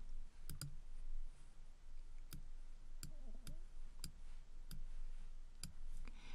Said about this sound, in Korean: 공유하는 방법으로는 상단의 공유 버튼을 클릭하고